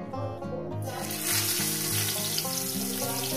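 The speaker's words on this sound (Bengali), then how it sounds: "তেলটা আমার গরম হয়ে গেছে বন্ধুরা, তেলটা আমার গরম হয়ে গেছে। আমি এখানে দিয়ে দেবো মাছের পিসগুলো।" Pieces of bhetki fish drop into hot oil in a pan. A loud, close sizzle bursts out about a second in, rising over a background tone and then holding steady and hissing. No one speaks.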